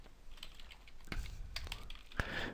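Keys clack on a computer keyboard as code is typed, a quiet irregular patter of close taps with a couple of sharper strokes, no talking.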